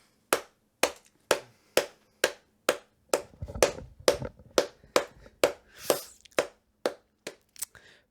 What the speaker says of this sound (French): Donc, vous pouvez applaudir Michel Patry!